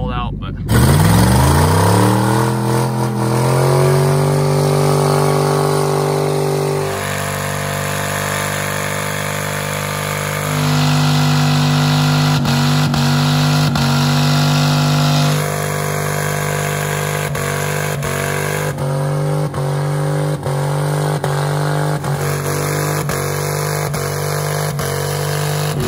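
A truck engine cranks and starts, then revs hard and holds at high revs with stepped changes in pitch, loud and continuous for most of the stretch, as for a burnout in first gear.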